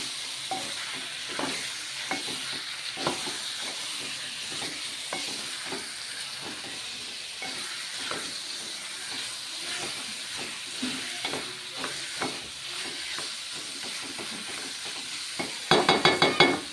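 Chicken marinated with salt and chili powder sizzles in a pan while a spoon stirs it in repeated scraping strokes. A brief burst of louder clatter comes at the end.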